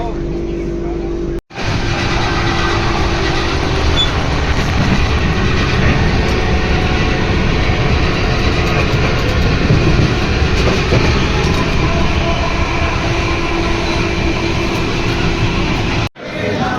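A long-distance passenger train on a Bengaluru to Kedarnath journey runs with a loud, continuous rumble and faint clickety-clack of wheels from inside the coach, with brief cuts at the start and end and no talking.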